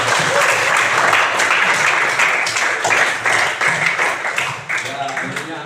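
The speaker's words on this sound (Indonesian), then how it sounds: "beri aplaus kepada kawan kalian" Classroom students applauding a classmate: a sustained round of clapping from a group, loud at first and gradually thinning out, with some voices mixed in.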